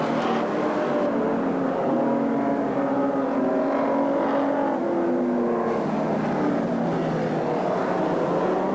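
Race cars roar away together at the start of a 100-lap race at Alexandra Speedway in 1985, a dense, steady, loud wash of engine noise with no clear gaps or talk.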